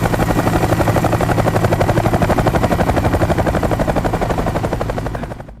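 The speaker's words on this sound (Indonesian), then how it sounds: "Helikopter siapa itu?" A helicopter arrives close by, its rotor chopping in a fast, loud, steady rhythm that fades slightly near the end.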